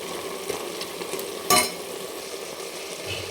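A spoon stirs ginger, garlic and coriander paste into mutton for a spicy Maharashtrian curry, giving a steady sizzle with one sharp scrape of metal against the pan midway.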